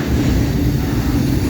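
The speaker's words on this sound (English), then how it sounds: "that NS intermodal is crawling" A Norfolk Southern intermodal freight train creeps slowly past in Homestead, giving a brief, steady low rumble of rolling rail cars.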